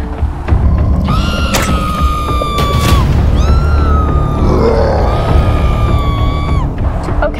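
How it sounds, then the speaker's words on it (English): A costumed RAM-eating monster growls and roars loudly in a live-action office skit, its long grunting bellows and wavering howls filling the space almost without a break. "It's the RAM-eating monster! It's destroying our business!"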